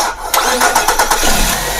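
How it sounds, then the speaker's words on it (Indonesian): A car with a faulty starter cranks with a rapid series of chugging turnovers, then catches and settles into a loud, close idle. "Nah, ini mesin dinyalakan."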